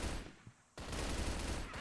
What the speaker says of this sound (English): here comes Ram with his own spray down